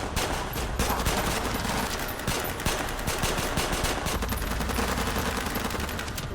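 Dense movie gunfire from a Nigerian crime drama, with continuous machine-gun bursts and overlapping shots filling the whole stretch loudly and without pause.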